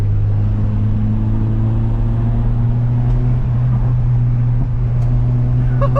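2001 Toyota Corolla "Bazooka Edition" driven hard, a loud steady low engine drone from inside the cabin with a few faint clicks and a brief tonal chirp near the end.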